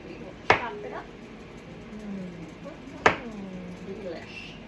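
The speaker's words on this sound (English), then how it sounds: "And you can chop it up to whatever size you like." Two sharp knife chops through golden beets on a cutting board, spaced a few seconds apart, each a crisp loud thud, with someone talking softly in between.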